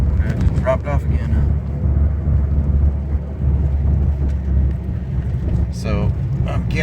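A 2003 Ford Focus SVT with a charging system fault idles up to high RPM, producing a steady, low, rumbling engine drone at moderate level, with someone talking over it at the start and near the end.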